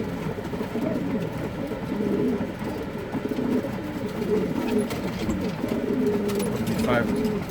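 Racing pigeons coo in a loft, low burbling calls layered together at close range over a steady rustling background, with a voice talking briefly.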